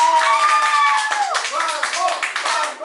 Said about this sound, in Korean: 여러분, 광고가 들어왔습니다. 박수!